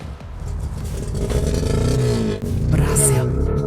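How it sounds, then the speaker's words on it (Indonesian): An old Lada Niva police car, abandoned in a forest for 30 years, cranks and catches, its engine rumbling and rising with clattering rattles, loud and close, while people talk over it. "pertama kita nyalakan mesinnya dulu"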